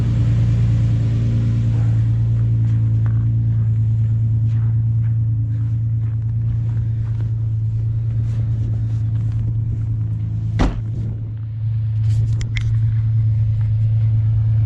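A Nissan 370Z idles steadily after a jump start outdoors in mild Minnesota winter weather, its low engine hum constant and close for the whole stretch, with a brief sharp knock or click near the end and no talking.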